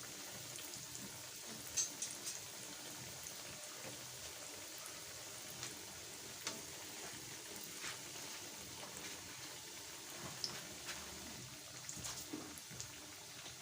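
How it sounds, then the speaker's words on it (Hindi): Chicken mayo bread patties frying in a pan over a medium flame, a steady soft hiss and crackle with faint scattered pops throughout, no voices. "बिल्कुल आपने मीडियम फ्लेम पे इनको करना है फ्राई।"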